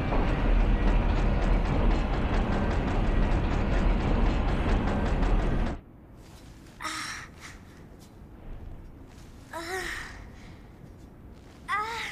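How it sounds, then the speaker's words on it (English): A tram rolls on rails in the Resident Evil video game, a loud, dense rumbling clatter for several seconds that abruptly cuts away to quieter ambience with brief breathy sounds. "This tram is bound for Nest. Do not exit until the final destination."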